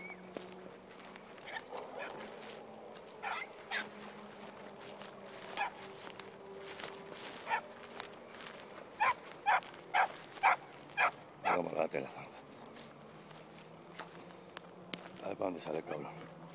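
A dog barks repeatedly from within brambles near a railway line while hunting a rabbit, sharp barks clustering midway among insect buzzing, with someone talking at times.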